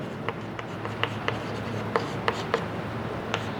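Pen or chalk writing out a maths problem during a class, with light scratchy strokes and short taps in an irregular rhythm over a steady background hum.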